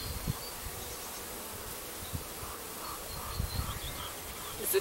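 Honeybees hang about on the outside of a hive, giving a faint, steady outdoor buzz with a few slightly louder swells. Crows caw faintly somewhere in the background.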